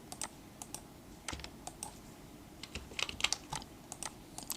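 A computer keyboard tapped in short irregular bursts of crisp clicks, keys pressed singly and in quick clusters, close and alone with no talking.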